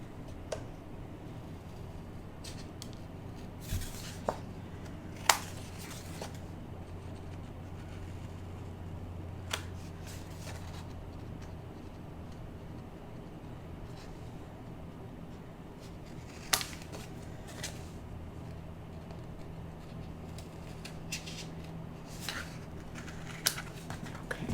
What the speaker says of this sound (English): First thing I'm going to do is trim it.